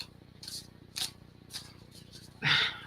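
Tarot cards are shuffled in short bursts of papery riffling, four or five quick flutters spaced apart, close and crisp with quiet gaps between them.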